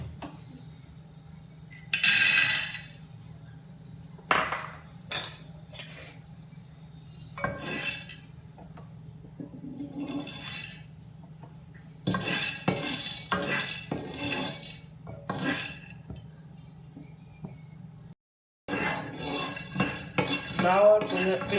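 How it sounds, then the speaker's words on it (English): Peanuts dry-roasting in a pan without oil for sabudana khichdi, stirred with a metal utensil: repeated loud scraping and clinking strokes in bursts over a quiet background, with a brief silent gap near the end. "First of all, we will roast our peanuts without oil."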